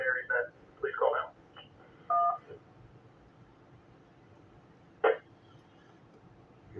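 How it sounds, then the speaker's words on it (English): DTMF keypad tones come over an amateur radio ARES net, in a few short bursts of dual-pitch beeps with pauses between, against faint radio hiss, ending with a single brief tone. "Here we go with the DTMF nonsense."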